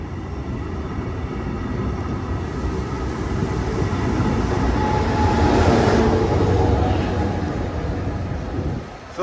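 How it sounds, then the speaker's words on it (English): A Brightline passenger train moves through Boca Raton station, a broad rumbling roar swelling to a peak and easing off, steady and fairly loud without talk. "That's the first train to pick up a passenger since 1968 in beautiful downtown Boca Raton."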